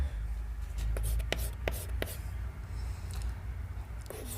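A teacher writes on a board during a class 9 maths lesson on polynomial division, producing faint, scattered scratchy strokes and taps over a low background hum.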